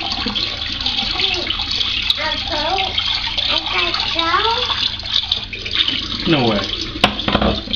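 Cold tap water runs steadily into a bathroom sink during a winter shave, a continuous broadband rush from start to end. Someone talks over it now and then.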